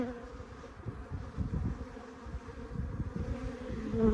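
Honey bees buzz in a dense, continuous low drone during a removal from under a shed floor in Arizona. The sound is close and swells gently in loudness throughout.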